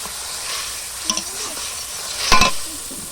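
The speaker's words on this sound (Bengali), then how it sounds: "চলো মশলাটা একটু কষিয়ে নিই" Spice paste being stir-fried in a pan over a wood-fired stove, with a steady close sizzle and a few sharp scraping stirs of a spoon against the pan.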